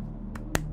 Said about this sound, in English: And open palm thumping.